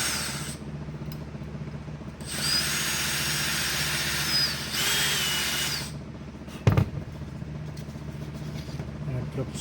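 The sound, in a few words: power drill countersinking holes in a wooden board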